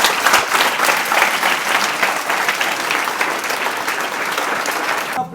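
Sustained, loud applause from an audience at an award ceremony honouring top students, a dense wash of clapping hands that carries on steadily before easing off at the end.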